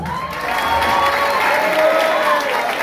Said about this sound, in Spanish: Fuerte aplauso para Julieta Migueles, la secretaria de Comunicación.